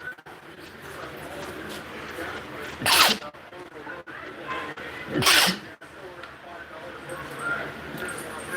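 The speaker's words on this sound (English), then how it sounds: "That fucking sneeze" A man lets out two loud, sharp sneezes a couple of seconds apart, with quiet room noise and faint background voices between them.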